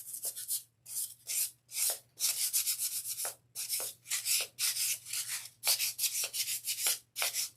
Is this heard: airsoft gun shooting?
no